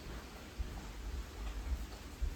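Rain pattering steadily with low rumbling gusts of wind buffeting in bursts, a dull stormy roar with no talking.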